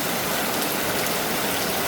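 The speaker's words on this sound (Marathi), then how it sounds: "पाऊस सुरू आहे आज वीस ऑक्टोंबर आहे आणि पाऊस काही कमी नाही पाऊस सुरू झाला आहे" Heavy rain falls in Kerala, a soft, steady hiss of drops on surfaces, fairly faint and continuous with no talk.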